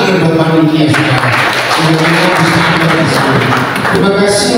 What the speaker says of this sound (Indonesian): Tepuk tangan buat panitia saudara.